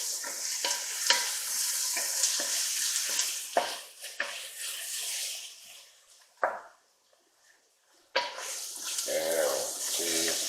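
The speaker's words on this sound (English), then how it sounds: "So now we're going to add in our butter. I'm going to let this melt" Butter melting and sizzling in a pan with chicken broth while making smothered pork chops, a steady close frying hiss with scraping stirs, briefly dropping to near silence before the sizzle returns.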